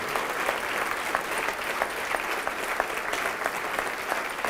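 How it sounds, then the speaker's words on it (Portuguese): Steady applause from a large church congregation, dense clapping that holds at an even level throughout without any voices rising above it. "E vamos aplaudir mais ao Senhor Jesus"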